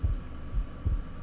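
A low, muffled heartbeat plays as a game sound effect in Minecraft, with three soft, evenly spaced thumps over a dull background hum and no talk.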